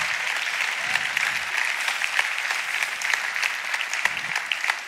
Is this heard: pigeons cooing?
no